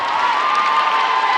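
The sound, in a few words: crowd chanting for hometown favorite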